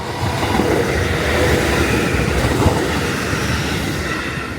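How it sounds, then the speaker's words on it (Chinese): A commuter train passes through a residential area in Japan with a loud, steady rumble and rattle of wheels close by, filling the whole stretch without talk. "所以这每天这个电车来来去去的那个声音还是挺吵人的"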